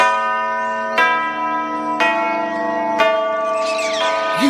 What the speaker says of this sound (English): The sound of the bells makes you want to swing on a vine.